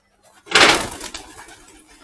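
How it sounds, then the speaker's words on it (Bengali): Domestic pigeons on a large village rooftop give a burst of sound, a single loud flurry that fades into a softer tail, nearby and without talk. "এখানে দেখেন কবুতর পালন করে"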